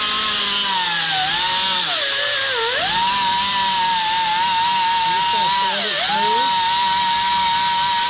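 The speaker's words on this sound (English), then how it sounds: "You'll see I just have an angle grinder with a sanding disc on it." Angle grinder fitted with a sanding disc working on car paint, a loud steady high whine that dips in pitch twice as the disc presses harder, running continuously with no talk.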